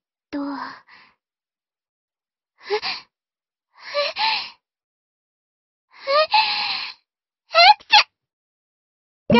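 A series of sneezes and gasping breaths in a video game story, five or six short separate bursts spaced across silence, close and fairly loud.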